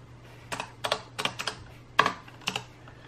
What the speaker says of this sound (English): just so we can test out the typing function